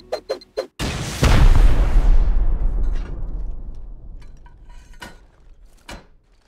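Several C4 charges blast an armored wall in the video game Rust: a few sharp pops, then one huge, close explosion that rumbles and slowly fades, with faint scattered clatter afterward.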